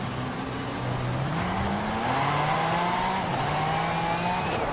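A Hennessey truck's engine in the racing game Forza Horizon 5 drones continuously, pitch climbing and stepping through gear changes, loud and steady throughout with no talk.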